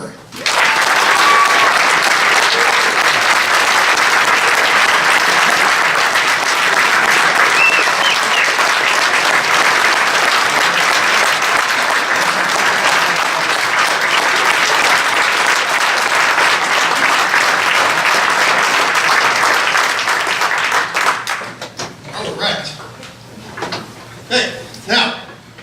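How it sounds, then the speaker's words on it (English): Loud, sustained applause from a crowd at a high school wrestling banquet honoring a state champion, steady for about twenty seconds before thinning into a few scattered claps. "Please join me in a round of applause to the one, the only, state champion, Gunner Murray."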